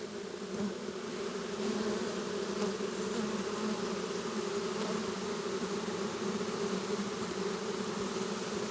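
Honeybees hum in an open hive during a March inspection, a dense, steady buzz that stays close and constant throughout, with no voices.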